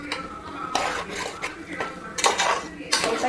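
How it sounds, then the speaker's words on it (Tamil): Stirring Kerala-style chicken roast with chopped tomato in a pan, a metal spoon scraping and clinking against the pan in bursts, close and fairly loud. "லைட்டாக கிளறி விட்டுட்டு"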